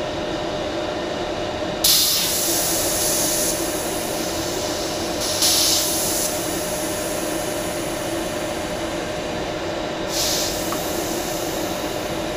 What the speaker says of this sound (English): we'll make sure that we bleed this valve here.